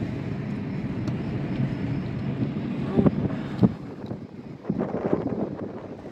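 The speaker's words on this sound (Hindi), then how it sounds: "इतनी ठंडी यख बस्ता हवा चल रही है" Cold wind blows steadily outdoors at night in open Lake City, buffeting the microphone with a continuous low rumble and occasional gusty thumps.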